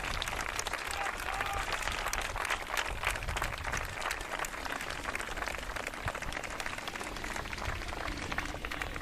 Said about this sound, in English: he's about to make his way off the field to a round of applause